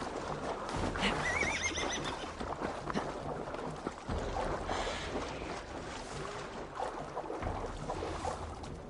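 A horse whinnies loudly in Assassin's Creed Valhalla after being summoned, with a high rising neigh standing out over dense game ambience, wind and music-like background.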